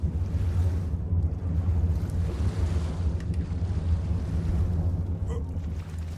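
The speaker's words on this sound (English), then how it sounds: "Swim across and hope that you can outswim piranhas" Swimming across water in the video game Ark, a steady wash of water and wind-like rumble filling the whole stretch at a constant, fairly loud level, with no talk.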